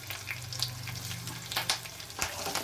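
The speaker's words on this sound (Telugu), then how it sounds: "కరివేపాకు వేసుకుని కొంచెం చిట్టుపట్లు ఆడుతుంది కదండి" Curry leaves spluttering in hot oil with green chillies while cooking a turkey berry fry, giving a steady sizzle with scattered sharp crackles and pops, close and fairly quiet.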